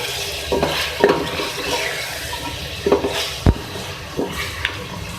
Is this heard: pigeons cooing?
no